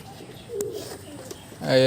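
Malwai pigeons cooing indoors, soft low coos scattered through the room with a louder burst of cooing near the end; a voice is briefly audible.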